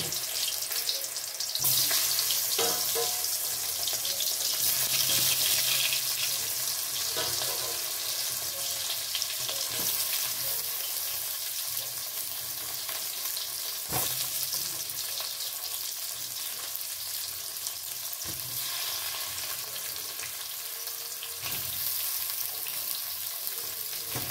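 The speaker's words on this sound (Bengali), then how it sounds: "সেই আলুগুলো প্রথমে আমি ভেজে তুলে নেব।" Potatoes frying in mustard oil over a gas flame, a continuous bright hissing sizzle with occasional stirring knocks and scrapes, steady and close throughout with no voices.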